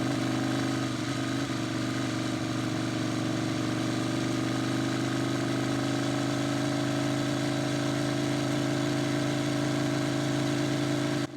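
Ducati Panigale sport motorcycle engine, a 1199 passing near an 899, running with a steady low droning hum and even mechanical buzz throughout, loud and close with no talking.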